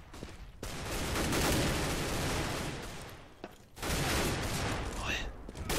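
Rapid bursts of automatic gunfire in Counter-Strike: Global Offensive on the Mirage map, loud dense volleys with a short gap in the middle, while a commentator speaks over the action.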